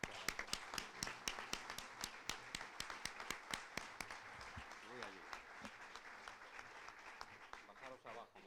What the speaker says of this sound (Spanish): le pido un fuerte aplauso para el general